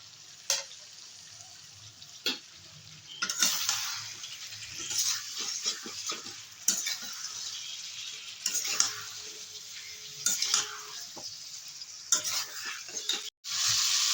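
Cauliflower, tomato and beans hit a hot oiled pan beside already-fried potato, bursting into a bright, loud sizzle with sharp spatula scrapes and clatters, the hiss continuing steadily between stirs.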